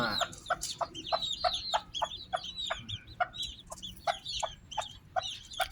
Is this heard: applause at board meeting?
no